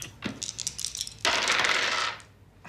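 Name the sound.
dice being rolled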